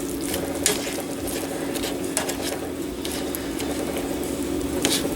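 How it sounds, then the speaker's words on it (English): Meat and onions being stirred in a pan, a steady frying sizzle with scattered scraping and clacking strokes of the utensil, close and clear, with no talking. "now I'm going to stir this up and finish cooking"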